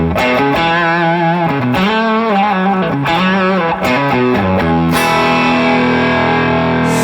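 An overdriven electric guitar plays crunchy sustained chords and bends through a loud Two Rock Bloomfield Drive amp, with a long reverb tail washing out the final chord.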